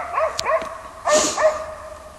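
A dog barks repeatedly at a moose, several sharp barks and yelps spaced across the moment, fairly close and loud with no talking.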